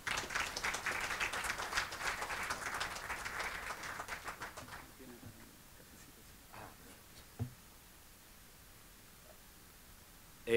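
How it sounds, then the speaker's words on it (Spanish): Applause welcomes a speaker at an international seminar on COP25 in Chile, a steady moderate clapping for about five seconds that thins out into a quiet room with a few scattered sounds. "recibimos con un gran aplauso a Manuel Pulgar Vidal"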